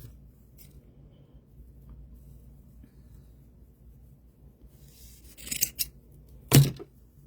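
Scissors snip through fabric trim meant for doll hair, a few sharp crisp cuts clustered near the end after a long quiet stretch with faint rustling.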